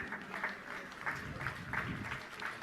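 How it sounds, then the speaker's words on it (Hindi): An audience at a Jain religious discourse gathering claps at moderate distance, a steady patter of applause lasting the whole moment with slight swells. "आप लोग तालियां बजाते रहे।"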